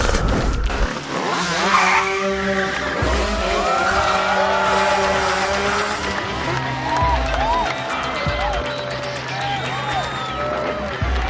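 A car is driven hard at high speed, its engine roaring loudly as the tires squeal and skid in long sweeping wails, with voices talking over the noise.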